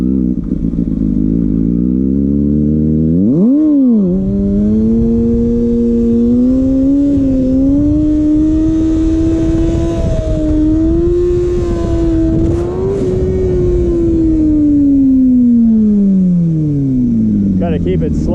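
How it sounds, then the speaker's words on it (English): Kawasaki ZX6R motorcycle engine screaming at high RPM on a track, a loud continuous whine that dips briefly, then climbs and holds its pitch, sagging toward the end, with voices talking under the engine. "Gotta keep it slower. I'm getting too high on the RPM."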